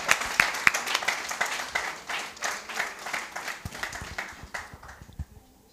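An audience at a pitching workshop and expo applauds, dense clapping at moderate loudness that gradually thins and fades out over several seconds.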